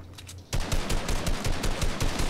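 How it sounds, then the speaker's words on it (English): Rapid gunfire in Fortnite erupts suddenly after a quiet moment, then rattles on in fast, evenly spaced shots, loud and near, with no break. "Oh, I'm getting shot right on my head."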